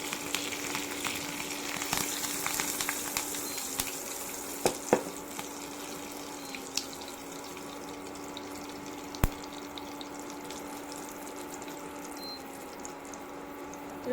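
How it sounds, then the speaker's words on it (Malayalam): Mustard seeds crackling in hot oil in a home kitchen, a steady faint sizzle broken by a few sharp scattered pops and snaps, with no voices over it. "ചൂടായ എണ്ണയിലേക്ക് കടുക് ഇട്ട് കൊടുക്കാം. കടുക് പൊട്ടി വരുന്നുണ്ട്."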